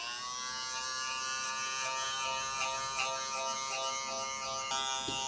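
Electric hair clippers fitted with a number 3 guard cut through afro hair, a steady close-up buzz that dips slightly as the blade moves through the hair.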